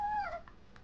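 A dog in the medieval strategy game Stronghold Legends gives one brief whining howl that slides downward, close and moderately loud, followed by faint ambient game sounds and no talk.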